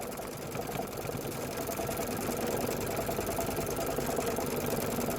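A sewing machine runs continuously while quilting the sashing and border of a quilt, its needle chattering in a fast, even rhythm, close and steady without pause and with no voices.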